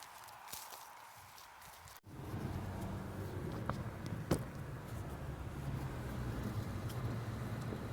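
A car drives along a road through autumn countryside, with a steady, fairly loud road and engine rumble that starts after a brief quieter opening and carries on evenly to the end.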